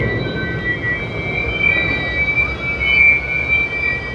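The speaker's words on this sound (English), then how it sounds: "Okay, that was that train." A long Union Pacific freight train of auto racks, tankers and intermodal cars rolls through the North Platte, Nebraska yard, loud and close, with rumbling wheels and a thin high squeal of wheels on rail.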